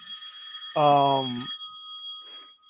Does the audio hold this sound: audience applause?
no